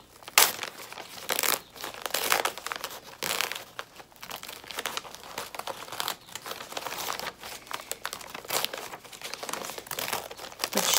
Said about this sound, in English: you're going to want to tear away the tear-away stabilizer